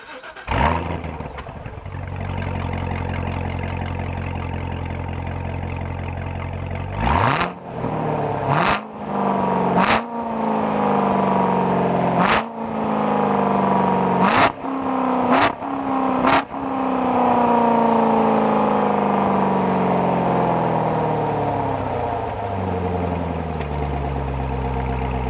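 A Chevrolet C7 Corvette Z06 engine with its catalytic converters removed idles with a deep rumble, then revs hard in a series of sharp bursts, each roar dropping back before the engine settles into a loud idle.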